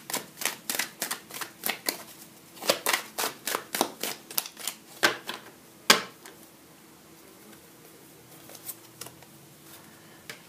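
Tarot cards being shuffled, heard as a quick run of crisp, close riffling flicks and snaps, most of them in the first six seconds, then a few sparse taps over a quiet background.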